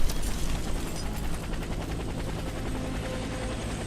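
Military helicopter in the Warface video game, a steady loud rotor and engine drone filling the scene with a rapid low thumping, constant throughout with no speech over it.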